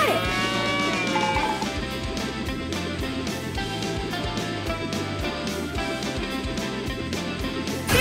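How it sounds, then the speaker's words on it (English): A cartoon cow in a children's game moos loudly and repeatedly over a steady bed of bright game music, with no talk. "Cow spotted."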